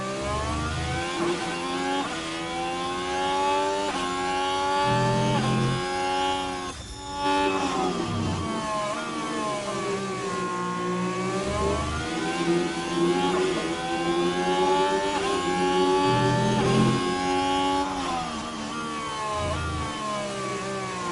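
F1 race cars in F1 Manager 24 at the Bahrain race, high-pitched engines whining up and down through gear changes as they pass, loud and continuous, with deeper thumps recurring underneath.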